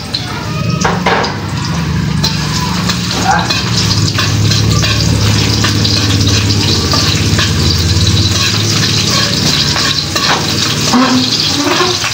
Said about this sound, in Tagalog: Kaya, ngayon, bali magkikisa na tayo ng bawang.